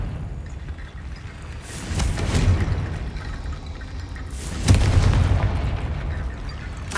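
Confringo blasting curse in a wizarding video game, heard as two deep booming explosions a few seconds apart, each with a sharp onset followed by a rumbling tail.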